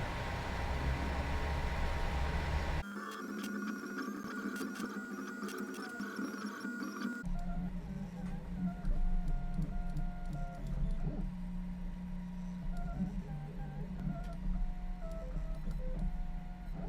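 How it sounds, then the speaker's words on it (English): A Printrbot Printrbelt 3D printer runs close by, its stepper motors whining and buzzing in shifting pitched tones over a steady mechanical hum, with the tone changing abruptly in stages as the print proceeds. "it's simply going to heat up and start printing when it gets to temperature"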